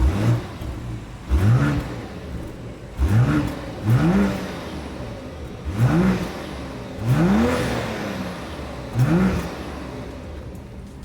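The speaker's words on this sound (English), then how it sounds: "As always, here is that exhaust clip." A BMW X5 exhaust barks through six sharp revs at idle, each blip rising and falling quickly with short pauses between, close and loud with no talk.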